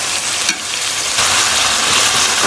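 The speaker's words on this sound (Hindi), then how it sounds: "हमने कीमे को थोड़ा सा भूनना है।" Minced chicken keema fries in a pan with a loud, close, steady sizzle and crackle that swells slightly toward the end, with no voices.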